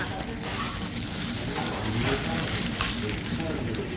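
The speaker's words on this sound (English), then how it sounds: "Oh, that crackle and sizzle and pop." Korean bibimbap sizzling and crackling in a hot bowl at a restaurant table in Busan, a steady broadband hiss with scattered pops that runs the whole time, close up, with talk partly over it.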